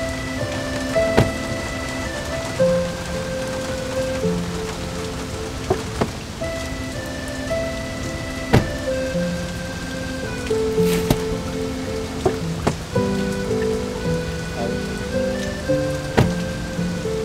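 Steady rain falls and patters on surfaces, with scattered louder drops tapping throughout, while background music plays underneath.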